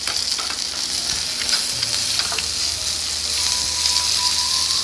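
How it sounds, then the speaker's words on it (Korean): Five-layer Jeju black pork belly grilling at a barbecue restaurant, a loud continuous close sizzle with scattered crackles and pops, no voices over it. "아, 오겹살이 익고 있습니다"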